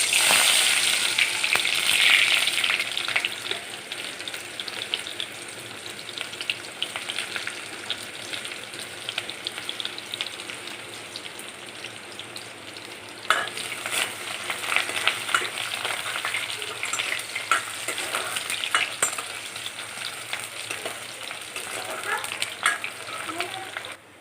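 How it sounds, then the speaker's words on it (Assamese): Chopped onion drops into hot oil for a rajma curry, giving a loud, dense sizzle that eases slightly, then surges again with stirring clatter midway. "তেলখিনি ভালদৰে গৰম হোৱাত ইয়াতে দিছোঁ মই কাটি ৰখা পিঁয়াজটো।"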